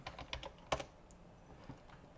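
Quick burst of keystrokes on a computer keyboard, several rapid clicks with one louder tap, followed by a few sparse soft taps, close and clear with no talking.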